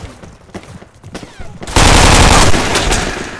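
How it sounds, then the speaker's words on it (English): A sustained, loud burst of MG42 machine gun fire in a World War II shooter game erupts after a stretch of quieter, scattered gunfire and continues, slightly fading, to the end. "That's an MG42."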